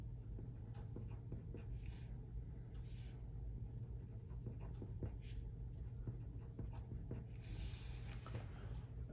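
Continuous scratchy writing on paper as words are gone over again and again to darken a drawing, a soft steady scribble over a low background rumble.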